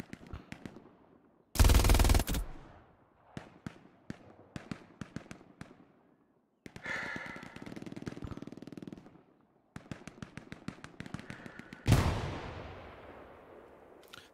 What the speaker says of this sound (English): I hear lads firing from this side